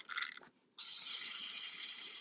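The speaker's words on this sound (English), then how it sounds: "Let's check the timer." A vintage Nikon F film camera's self-timer runs with a fast high metallic buzzing whir, cut off briefly by a short pause before the mechanism buzzes on steadily, close and alone.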